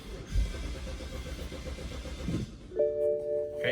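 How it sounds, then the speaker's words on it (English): A BMW 335xi's engine is cranked and started after a fuel sender and fuel filter replacement, a steady low mechanical rumble and whir followed by a sudden tonal whine near the end, heard alone without talk. "then we'll try to start the car"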